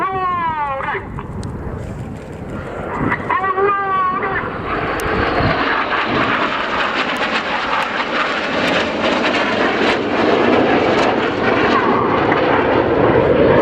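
Red Arrows jets flying the Hurricane manoeuvre at an airshow: a loud, continuous roar of jet engines that builds and swells as the aircraft pass, with a voice talking over the noise early on.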